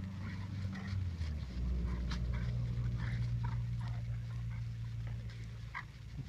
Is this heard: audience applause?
no